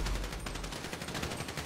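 Gunfire in the GTA 5 video game, a rapid string of faint, even shots rattling in quick succession for under two seconds.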